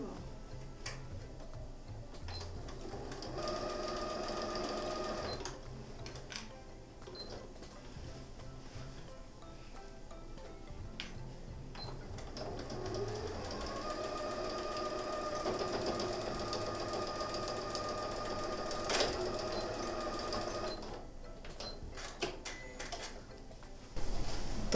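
A home sewing machine stitches a multipurpose pouch for a baby's layette in steady, continuous runs with brief pauses and small ticking handling noises, close by and fairly quiet.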